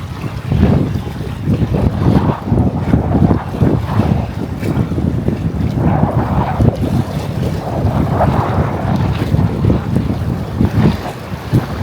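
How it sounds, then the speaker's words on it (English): Waves rush and crash against the shore of a private Bahamian island at Sandals Royal Bahamian, a loud, continuous wash of surging water mixed with gusting wind buffeting the microphone, with no voices. "You just hear the water crashing up and then nothing else."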